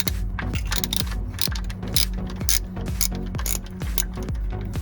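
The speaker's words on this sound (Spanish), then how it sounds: "coger nuestra carraca, como os hemos dicho, con un extensor y un vaso del número 10 y vamos a ir quitando los tornillos" A ratchet with an extension and a 10 mm socket loosens bolts on a petrol BMW E90 engine. Close, steady, rapid clicking repeats in quick strokes throughout, with no talking.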